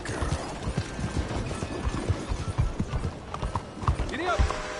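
A horse gallops in the Red Dead Redemption 2 video game, its hooves pounding in a rapid, continuous clip-clop rhythm close by, with brief voices and calls over the hoofbeats.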